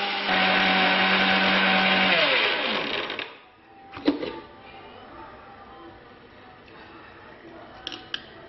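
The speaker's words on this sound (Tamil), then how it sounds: "பயத்தம்பருப்பு கொட்டி அரைக்க போகிறேன்." A mixer grinder whirs loudly as it grinds moong dal for about three seconds, its pitch sliding down as it spins to a stop, followed by a few knocks and handling sounds.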